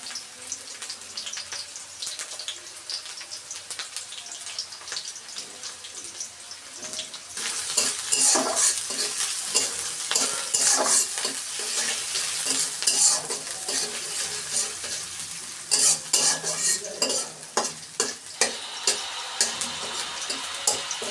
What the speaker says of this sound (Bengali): ধনেপাতা কুচি, লঙ্কা, পেঁয়াজ দিয়ে দিলাম।